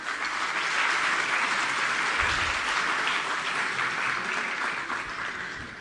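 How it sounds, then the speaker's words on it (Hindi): Applause from an audience at a Delhi government event, sustained clapping from a sizeable crowd that holds steady and tapers slightly toward the end, with no voices over it. "तालियां।"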